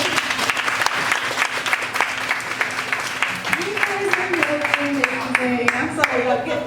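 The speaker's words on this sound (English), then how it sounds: "get one more round of applause" An audience at a brunch event applauds, with steady dense clapping that runs throughout while a voice and some tonal sounds rise briefly beneath it.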